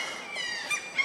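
Seagulls cry on an early Swedish morning in harsh, repeated squawks that rise and fall at moderate distance.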